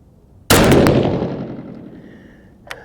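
A 6.5 PRC rifle fires a single 156 gr Berger bullet loaded with Retumbo powder, one sharp, loud blast whose echo trails off over about two seconds, then a brief metallic clink.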